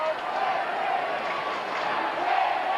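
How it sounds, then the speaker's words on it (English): A crowd of about 10,000 at an AFL football match at the SCG, Sydney against Melbourne in 1990, keeps up a loud, continuous roar of chanting and cheering under a commentator's voice. "The crowd chanting."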